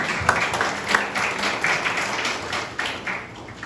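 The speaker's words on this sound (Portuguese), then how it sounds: "Uma salva de palmas." A church congregation gives a round of applause, steady mid-level clapping from a gathered crowd, with a few sharper claps standing out from the even patter.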